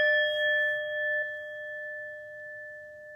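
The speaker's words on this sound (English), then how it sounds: "So I'm gonna ding my sound bowl." A sound bowl is struck once and rings with a clear, sustained metallic tone of several pure pitches, slowly fading over a few seconds at close range with faint background murmur.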